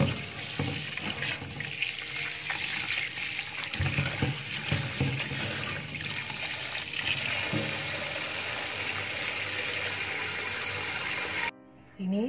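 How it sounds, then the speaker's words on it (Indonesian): Tap water runs steadily as mixed vegetables are rinsed clean in a kitchen sink before a stir-fry, a continuous close gushing and splashing that cuts off abruptly near the end. "mula-mula bilaskan semua jenis sayur dengan bersih"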